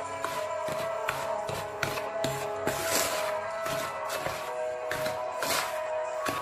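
Semolina pizza dough is mixed with baker's yeast by hand, a close run of soft rubbing and shuffling with repeated light taps and scrapes in an uneven rhythm.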